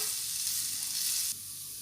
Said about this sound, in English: Saute it well until the rawness of the garlic is gone.